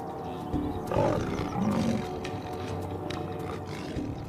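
A lion's low, rumbling growl rises and falls over a few seconds against steady outdoor background noise on open plains, with no talking.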